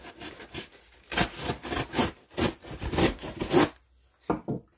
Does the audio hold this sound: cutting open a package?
yes